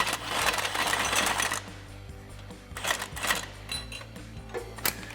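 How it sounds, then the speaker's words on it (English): Impact gun on a long extension with a 13 mm swivel socket driving a flange bolt on a 2017-2022 Ford F-250 exhaust, giving a loud burst of rattling hammering, a pause, then shorter bursts close by. "I'm going to switch to an impact gun with a long extension and a 13 millimeter swivel socket"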